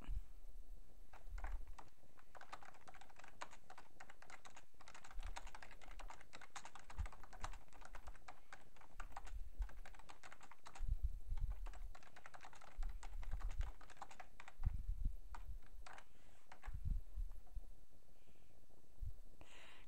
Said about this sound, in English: simply type in their email address